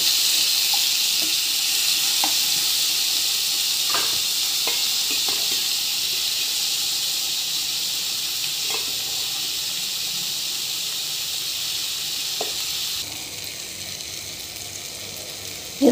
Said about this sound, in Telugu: ఇది మగ్గాలి చక్కగా.